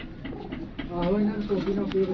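Pigeons coo in a loft holding dozens of birds, with soft repeated cooing calls close by under a low murmur of background noise.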